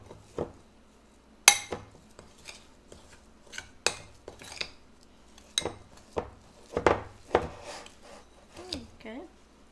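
A spoon scrapes and taps through chocolate chip cookie dough in a bowl, giving irregular close knocks and rubbing strokes with short pauses between them.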